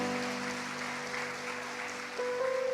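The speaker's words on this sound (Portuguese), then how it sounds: "Vamos dar um aplauso por esses homens de Deus aqui" Applause from a church congregation for visiting pastors, a steady mid-level wash of clapping with a sustained tone underneath, swelling slightly near the end.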